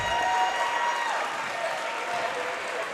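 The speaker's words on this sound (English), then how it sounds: "Here come the Wolverines back on the court. Get a nice hand from the crowd." Crowd gives a steady round of applause as a high school basketball team returns to the court during a state tournament game, broad clapping filling the gym without a break.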